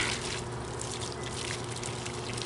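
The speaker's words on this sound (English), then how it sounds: "I better hurry because this water is leaking out" Water trickling and dripping steadily from a leak in a drip tape irrigation line outdoors, a faint continuous gurgle and splatter with no talking.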